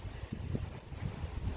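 Gusty wind by a lake, Mälaren, buffets the microphone in uneven low rumbling bursts, a strong blustery roar with no voices.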